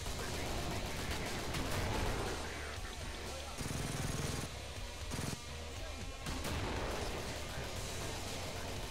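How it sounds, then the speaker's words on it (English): Grenade launcher fire and explosions from the video game Killing Floor boom and crackle in dense, dirty bursts, with continuous gunfire and players talking over the din. "I got the grenade launcher."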